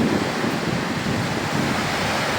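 Steady, roaring wind by the sea on Boracay island, with a constant rush of surf, loud and unbroken throughout, no voices.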